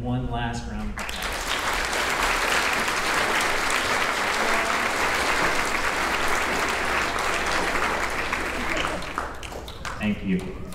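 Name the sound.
applause for graduating 5th graders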